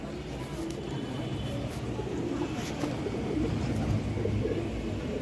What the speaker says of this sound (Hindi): ये दूसरा कबूतर बैठा है माशाल्लाह, बहुत ही उम्दा कबूतर बैठा है आकर